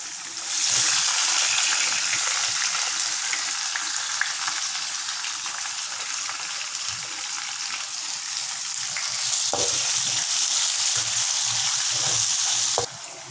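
Onions sizzling in hot oil, cooked for fried rice vermicelli: a loud, steady hiss of frying carries on close up for the whole stretch, with a few faint knocks and scrapes and no voices.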